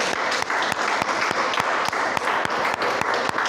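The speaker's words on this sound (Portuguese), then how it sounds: "Vamos aplaudir o Senhor." A church congregation bursts into sustained applause, dense overlapping hand claps filling the room steadily and loudly with no talk over them.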